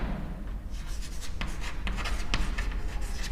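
Chalk or marker scratches and taps on a board during a group theory lesson, a series of short rubbing strokes close by, alone without talk.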